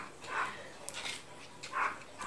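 A small dog gives a few faint, high-pitched yaps and whimpers in quick succession, somewhat distant and quiet.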